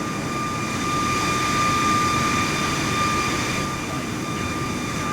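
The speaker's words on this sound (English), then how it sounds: "I'm going to throttle up and gain some altitude. Listen to those engines roar." Aircraft engines in Microsoft Flight Simulator 2024 throttle up into a steady, loud roar with a high whine riding on top, swelling slightly midway and holding alone without any talk.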